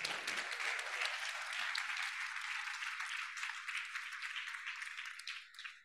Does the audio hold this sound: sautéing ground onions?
no